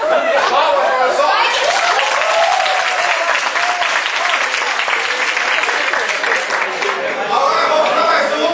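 A stand-up comedy audience breaks into steady, sustained applause with scattered laughter and chatter mixed in, loud and filling the room throughout.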